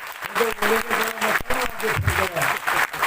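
Loud applause from an audience at a minority commission opening event in Aurangabad fills the clip, steady clapping with a voice speaking over it.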